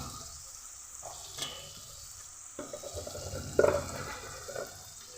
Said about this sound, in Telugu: చూడండి అంత బాగా ఫ్రై అయిపోయినాయి ఫ్రెండ్స్